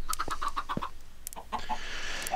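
Chickens in the video game Minecraft cluck in a quick run of short repeated calls, then a few scattered clucks, with no talk.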